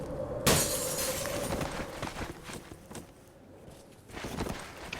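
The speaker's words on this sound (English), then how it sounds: "I'm just gonna have to hope nobody hears me smashing windows." Glass shattering as windows are smashed in Cataclysm: Dark Days Ahead, a sharp broadband crash near the start followed by scattered clattering and crunching, with a second burst toward the end.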